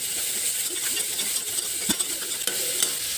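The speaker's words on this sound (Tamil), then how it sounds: "பச்சை மிளகா இப்போ ஒரு நிமிஷம் கிளறி விட்டுறலாம்." Onions and green chilies fry in a pan while a spoon stirs them, giving a steady close sizzle with a few soft scraping clicks and no talking.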